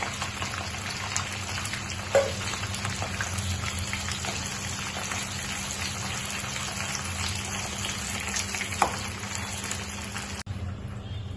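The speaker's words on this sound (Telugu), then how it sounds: "కళాయిలో ఆయిల్ బాగా వేడైంది. ఇందులో మనం ఫ్రై చేసుకోవాలి." French fries sizzle in hot oil in a kadai pan on a stove, a steady dense crackle and bubbling hiss with a couple of sharper pops, fairly quiet and close, no talking.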